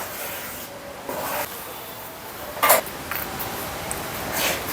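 Metal spoon scraping and stirring roasting flour in a pan for karah prasad, intermittent rubbing strokes with a sharper clink near the middle, fairly close.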